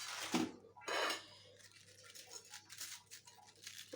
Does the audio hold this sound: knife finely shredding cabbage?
yes